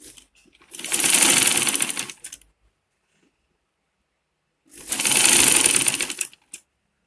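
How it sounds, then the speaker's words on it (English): A sewing machine top stitching a cap lining runs in two bursts of rapid, close mechanical whirring, each about a second and a half long, separated by silence. "This is the part which I'm going to top stitch with my machine."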